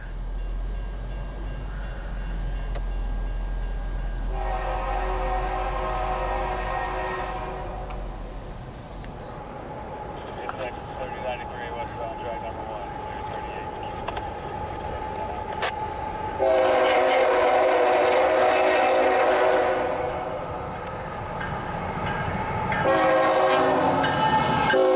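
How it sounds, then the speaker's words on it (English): A train passes a level crossing as the gates lower, with repeated loud horn blasts, several long honks spread across the pass, over a steady rumble of wheels and cars. "Got a train coming, there go the gates"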